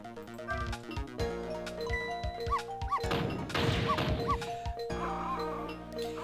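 A dog barking in the video game Ghost Trick, with short barks sounding over a busy, melodic game soundtrack.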